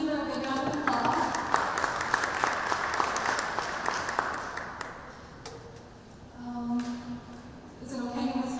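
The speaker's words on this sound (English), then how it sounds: "Everyone, please give her a big round of applause." An audience at a conference panel event breaks into applause for a guest, a dense roll of many hands clapping that thins and fades after several seconds, then a brief second burst, with a voice speaking over parts of it.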